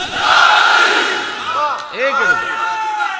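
A large crowd at a religious speech gathering roars the slogan Naara-e-Haidari, a loud, dense mass of voices followed by several ringing, drawn-out individual shouts rising and falling.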